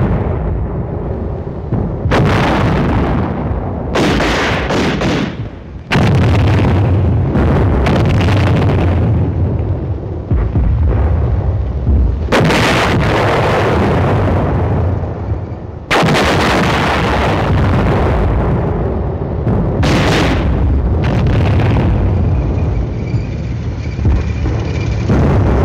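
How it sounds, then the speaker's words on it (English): Enemy artillery defensive fire and explosions on a hill against an advancing tank company, heavy booming blasts in repeated bursts with long rumbling decays, loud and dense, with no talking. "the enemy forces are alerted to Team Charlie's advance and commence firing defensive fires"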